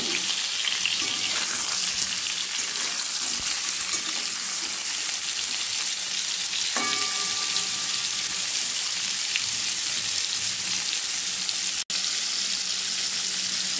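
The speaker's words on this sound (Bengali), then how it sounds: "এই দেখুন বন্ধুরা, পটলগুলো আমার ভাজা হয়ে গেছে।" Pointed gourd (potol) pieces fry in a pan with a steady, loud sizzle throughout, a brief metallic clink partway through and a sharp click near the end, with no talking.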